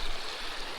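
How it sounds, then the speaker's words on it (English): Water rushing steadily through a gold sluice box set in a river, a continuous broadband wash with no voices, close and fairly even in level. "he's got his sluice running pretty well"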